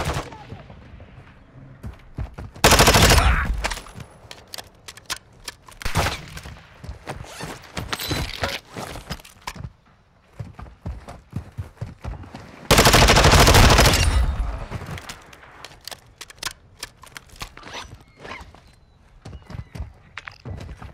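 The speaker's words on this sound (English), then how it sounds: "Taking effective fire!" Heavy gunfire in a video game firefight during a final extraction, with sharp single shots and automatic bursts, two very loud sustained blasts standing out, plus scattered thuds and footsteps between the volleys.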